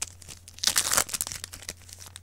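Crinkly foil rustling and a quick tearing rip up close as a Yu-Gi-Oh! Metal Raiders trading card pack is pulled open, with scattered crackles afterward.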